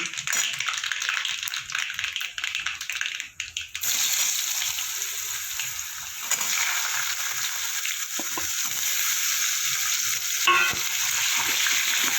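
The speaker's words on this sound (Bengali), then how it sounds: "ফোড়নটা একটু ভাজা ভাজা হয়ে গেলে এবার দেবো কেটে রাখা আম" Cut raw mango goes into hot oil with a black mustard seed and dried red chilli tempering, setting off a sudden loud, hissing sizzle that stays strong and steady, with faint stirring taps.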